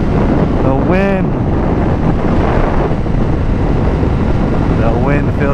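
Wind rushes loudly and steadily past the rider of a Suzuki Gixxer motorcycle, a broad continuous roar with brief voices cutting in near the start and end.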